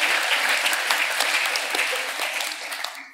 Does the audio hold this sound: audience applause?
yes